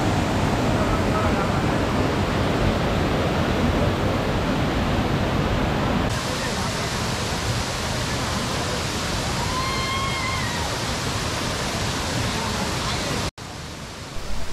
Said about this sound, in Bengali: খুব সুন্দর একটা ওয়াটারফল